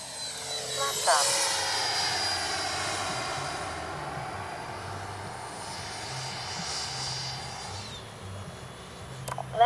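A Freewing F-22 RC model jet comes in to land, its ducted-fan whine steady and fairly loud throughout with a rising sweep near the start, someone talking over it.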